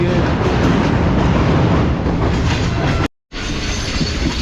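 Shalimar Express rumbling steadily across a rail-only river bridge between Kotri and Hyderabad, a loud continuous roar of wheels with faint clatter, briefly cut to silence near the end before resuming.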